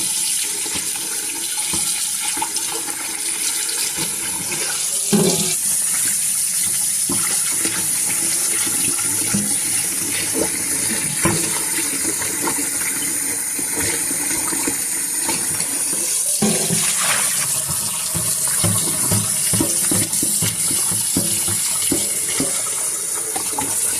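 Steady tap water runs continuously into a sink while homemade butter is rinsed of buttermilk, a close, even wash with small splashing fluctuations and no talking.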